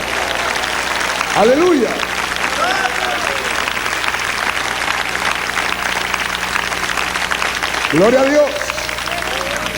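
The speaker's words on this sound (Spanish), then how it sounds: "Dele un aplauso al Rey con todo su corazón." A church congregation applauds with steady, dense clapping throughout, while voices shout praise over it near the start and again near the end.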